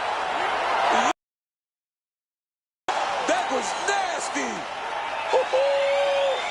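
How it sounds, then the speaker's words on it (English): Crowd in the UFC 4 fighting game roars and whoops as a fight ends, loud and close, with a commentator talking over it and a brief gap of silence. "crowd loving it."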